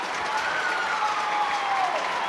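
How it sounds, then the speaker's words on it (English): Big crowd at Murrayfield cheering during a Scotland v England women's Six Nations rugby match, a loud, steady roar of cheers and applause filling the whole stretch, with no speech over it. "And the cheer goes up from the Murrayfield crowd."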